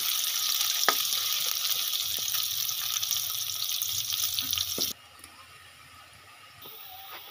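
Onions sizzling in hot oil in a pot for aloo ki handi, browning lightly; a dense, close frying hiss with faint scrapes that suddenly drops to a quieter simmer near the end.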